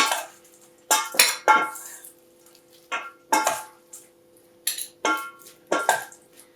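Brussels sprouts and soy chorizo tossed in a pan give a series of about nine sharp clattering scrapes and clinks against the metal, separated by brief quiet gaps, close and loud.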